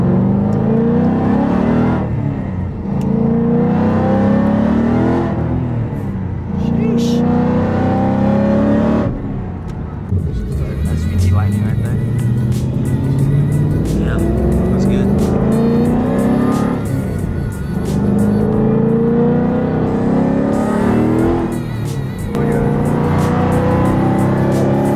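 A Ford Shelby GT500 with a supercharged V8 roars loudly nearby, revving up and easing off in repeated surges with a harsh, throaty rumble, no talk over it.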